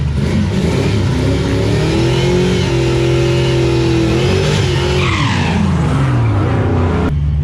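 A bone-stock 302 V8 car fitted with an old supercharger accelerates hard, engine loud and close, revving up through a rising whine before a shift and a sudden cut-off near the end.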